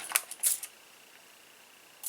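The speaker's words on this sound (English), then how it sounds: "And then I'm going to spray my mat with the evergreen." Ink mist is sprayed onto a craft mat in a few quick hissing spritzes close by, three bunched together at the start and one more after a quiet pause.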